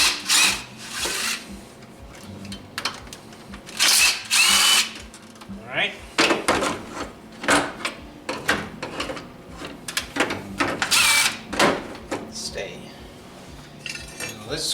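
A power tool zips nuts and bolts off a Nissan 3.3L V6 engine in short, loud whirring bursts, mixed with metallic clinks and someone talking between runs.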